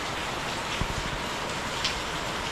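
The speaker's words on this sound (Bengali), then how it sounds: "এরকমভাবে বৃষ্টি হয়েই যাচ্ছে।" Heavy rain pours steadily on a gloomy Monday morning, a dense even patter close by with a couple of faint knocks and no speech.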